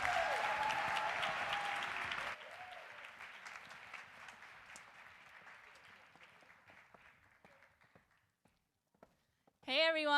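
Applause from an audience as speakers come on stage, a dense clapping that fades out over several seconds into scattered claps, followed by a voice starting to speak.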